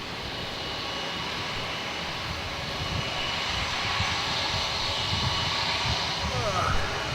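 Jetstar Airbus A321-200 jet departing at Melbourne Airport, a broad steady engine roar that holds loud and even throughout, building slightly toward the end, with no talk over it.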